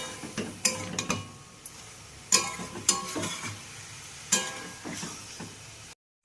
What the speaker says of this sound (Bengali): সমস্ত মশলার সাথে ফুলকপি, মাশরুম, আলু ভালো করে কষিয়ে নেব।